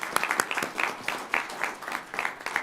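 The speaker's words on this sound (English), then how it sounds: "I appreciate the applause for them" A transportation department gathering gives a modest round of applause, heard as a small group's loose, uneven clapping in rhythmic bursts at moderate loudness, with no speech over it.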